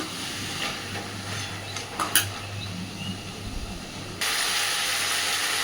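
Taro stems fry in oil in a wok, a soft crackling hiss with a few sharp spits, growing into a louder, steady sizzle near the end, close and without speech.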